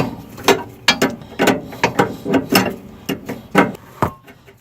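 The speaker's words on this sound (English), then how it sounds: "using your wrench, break that nut loose" Wrench clicking and ratcheting while breaking loose a nut on the rear sway bar of a 2016+ Honda Civic Sport hatchback, a close series of sharp, uneven metallic clicks and knocks about every half second.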